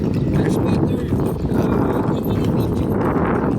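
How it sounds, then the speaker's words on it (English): Horse hooves clip-clop on a busy Manila street during a horse ride, a rhythmic clatter mixed into dense street noise with voices talking nearby. "The horse ride."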